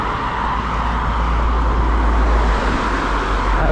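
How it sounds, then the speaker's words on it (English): Steady roadway traffic noise along a road, a continuous broad roar of passing cars with no breaks, fairly loud and close, no talking. "Hopefully any of that was audible over the traffic noise."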